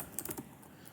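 A few quiet keystrokes on a computer keyboard, quick soft clicks in a brief burst before fading to near silence, close and faint with no voices.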